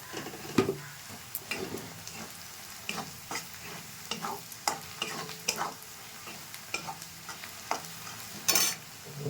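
Fried onions with turmeric sizzle in a pan for a prawn curry as a spatula scrapes and stirs in uneven bursts, close and moderately loud, with no voices.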